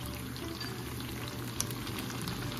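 Tofu frying in a pan for a sizzling tofu sisig, giving a steady, close, dense sizzle with a faint bubbling crackle throughout and no talk.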